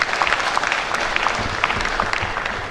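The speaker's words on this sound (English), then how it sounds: "I think you deserve to clap for yourself" Dense, steady applause from a seated audience at an annual induction assembly of registered quantity surveyors, fairly loud and continuous, with faint murmurs underneath.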